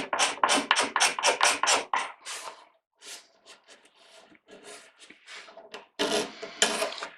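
Sandpaper rubbing back and forth over a wooden mandolin neck to smooth away rasp marks: a quick run of rhythmic strokes, then quieter, sparser scraping, and a final loud burst of strokes, close and with no talk.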